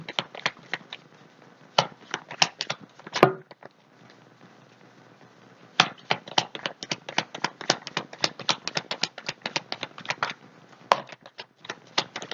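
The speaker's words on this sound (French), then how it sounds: "Je mets encore 2 cartes, s'il vous plaît." Tarot cards laid out one by one during an August Aquarius reading, giving dense bursts of crisp taps and soft slaps on a table, grouped with short pauses between runs. Quiet background, no talk heard.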